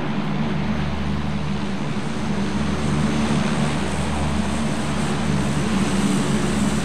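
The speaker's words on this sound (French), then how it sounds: "On attend-tu que l'avion passe?" A plane drones overhead in the PUBG battle royale video game, a steady, loud rumbling engine hum that holds evenly throughout with no voices over it.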